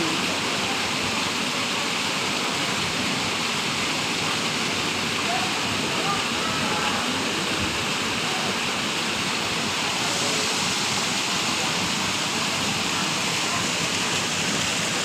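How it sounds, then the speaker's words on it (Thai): A waterfall pours in a constant, loud rushing roar, a dense unbroken wash of falling water that fills the whole scene from start to finish. "น้ำตกเย็นชื่นใจค่ะ"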